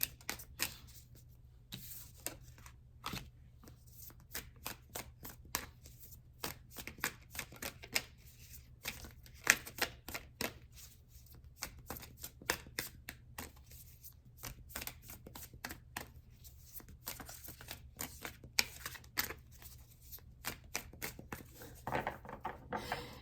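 Tarot cards shuffled by hand in a rapid, steady stream of crisp riffling clicks and soft slaps that runs unbroken for about twenty seconds, close and quiet, with no voice.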